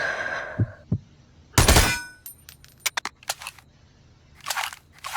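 An M249 machine gun fires on a target range about 50 to 75 meters out: one loud burst of sharp, rapid reports, followed by several scattered shorter cracks and a final cluster, all with no talk.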